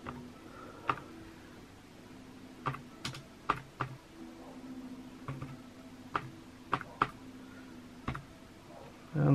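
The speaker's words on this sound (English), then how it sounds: "Let's type something." Typing on a mini wireless keyboard connected to an A500 Mini console, sparse close key clicks arriving singly and in short pairs with pauses between them, quiet room and no talking.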